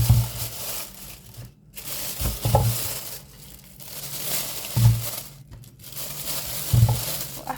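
Washed, dried potatoes being packed into a large plastic turkey roasting bag, giving close crinkling and rustling of plastic with a few soft thumps as pieces settle.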